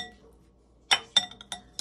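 Glass clinks as a utensil stirs mayonnaise-based carrot salad dressing in a bowl: four or five sharp, separate taps spread over under two seconds after a quiet start, with no talking.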